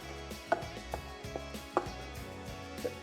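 A spoon works salt, MSG and spice bag seasoning together in a bowl for chilli squid, giving a few sharp, close clinks and scrapes spread irregularly over a few seconds, with no talking.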